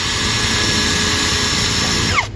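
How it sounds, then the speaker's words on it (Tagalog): TANZU brushless cordless drill boring through ceramic tile, a loud steady whine held for about two seconds before it winds down and stops abruptly. "ang bilis makabutas ng tiles"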